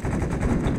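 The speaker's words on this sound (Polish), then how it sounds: "Kto strzelił? To chyba w nas." Rapid automatic gunfire in an Arma 3 co-op mission, a short loud burst of closely spaced shots.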